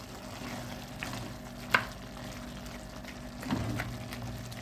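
Beef neck frying in a pan with spices and salt, a quiet steady sizzle with a few sharp stirring clinks and a brief louder burst of crackling near the end.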